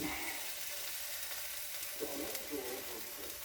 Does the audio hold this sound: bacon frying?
yes